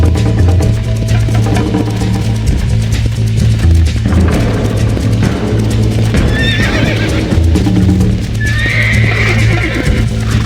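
A horse in Red Dead Redemption 2 neighs and whinnies loudly and up close over steady hoof clip-clops, with a low continuous hum underneath and no voices.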